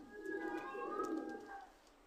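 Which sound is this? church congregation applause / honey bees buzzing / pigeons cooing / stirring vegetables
pigeons cooing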